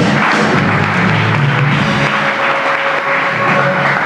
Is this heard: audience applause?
yes